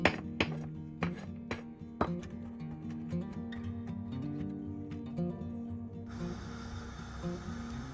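Sharp knife strikes on a board in an irregular run of chops, chopping pistachios coarsely, close up, with music playing underneath and no talking.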